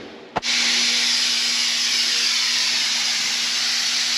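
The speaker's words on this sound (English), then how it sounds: "Using the sucker to suck all the oil out instead of using the drain plug." An oil extractor pump sucking oil out of a housing, starting with a brief click and then a loud, steady close hiss of suction with a faint constant hum underneath.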